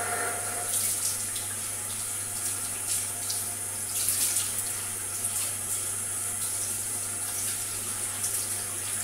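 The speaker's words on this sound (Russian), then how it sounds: "Кипяток идет." Very hot water pours from a tap into a sink as a steady, loud, continuous hiss and splash, heard on its own without any voices.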